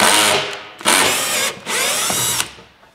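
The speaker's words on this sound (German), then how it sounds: "mit dem Akkuschrauber lose schrauben" A cordless drill drives screws on the skid plate under a Dacia Duster II, three loud whirring bursts separated by short pauses, close up with no talk.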